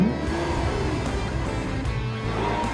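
A Lamborghini Aventador roars as its engine revs hard on an open desert road, loud, dense and raspy throughout. The pitch wavers up and down with the throttle over a few seconds.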